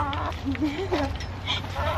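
Hens clucking in a backyard chicken yard spread with shredded bark mulch, several soft pitched calls rising over steady low outdoor background noise.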